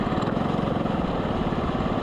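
A racing kart engine turns over at low revs on a wet kart track, giving a steady close-up putter of rapid, even pulses with no talk over it.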